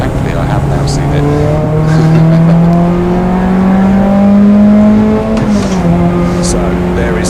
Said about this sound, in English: So there is the number 70 car.